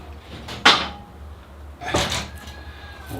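A squeaky wooden bonsai turntable is shifted in two separate moves, each giving a short, close creak and scrape, with quiet pauses around them.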